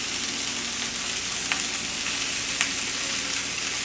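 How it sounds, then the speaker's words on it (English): Onions and garlic sautéing for paella in a pan, a soft steady frying hiss with a couple of faint clicks of a spoon stirring, fairly quiet and with no voices. "Giving these a stir every now and then to avoid onions and garlic from burning"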